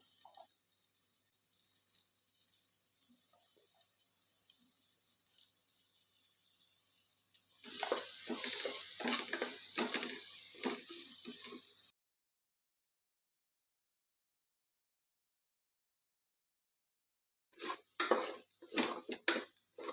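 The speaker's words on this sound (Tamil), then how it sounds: "நம்ம அரைச்சி வச்சுருக்க இந்த மசாலா பேஸ்டெல்லாம் போட்டு நல்லா வதக்கி விட்டுக்கலாம்" Ground masala paste stirred and sautéed in a pan for a Karnataka-style tomato bath, with a quiet stretch of faint sizzle, then bursts of loud scraping, clattering spoon-on-pan stirring and frying, a gap of silence, and more vigorous stirring at the end.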